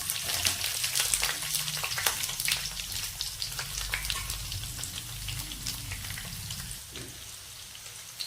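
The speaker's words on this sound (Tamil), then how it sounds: "உப்பு சேர்த்து வெங்காயத்தை வதக்குங்க." Onions sautéing with salt for a brinjal gravy, a dense, steady frying hiss close by that fades slightly near the end, with soft stirring underneath and no voices.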